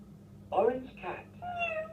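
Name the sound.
cat meowing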